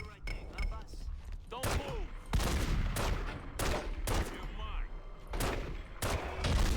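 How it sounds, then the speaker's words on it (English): Pistol gunfire in The Godfather: The Game, a rapid series of loud, sharp shots in uneven bursts over a steady game soundscape, with no talking. "Why is my pistol aim so bad?"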